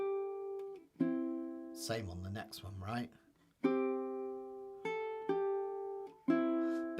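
A ukulele chord is pinched by plucking the top three strings together with the thumb and two fingers. Several bright, ringing plucks sound at intervals and decay between them, with a brief spoken question in the middle.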